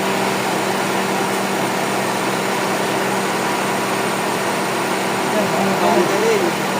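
A Honda FD car engine, its serpentine belt tensioner repaired, idles quietly and continuously with a faint whir like air conditioning; a voice speaks briefly near the end.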